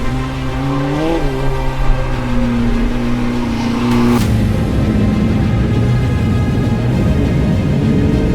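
A vintage Formula One Brabham BT11a race car engine on test laps: it rises through a rev sweep and a gear change, then settles into a loud, sustained, rasping drone close by, with no voices.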